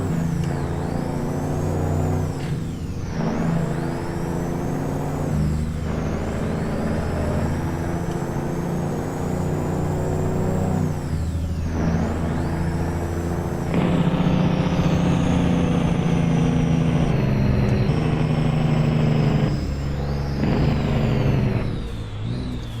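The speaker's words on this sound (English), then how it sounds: "Loads of people love this engine sound." Truck engine in American Truck Simulator, rated at 500 horsepower, drones loud and steady throughout, with shifting pitch as gears change and several sharp air brake hisses; no talking.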